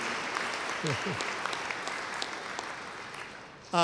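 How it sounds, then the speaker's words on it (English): Applause at an evening commencement ceremony honoring the most senior graduate, a steady, fairly soft patter of clapping from a distant audience, with a brief voice and a sharp louder burst near the end. "70 years, yeah, that deserves applause."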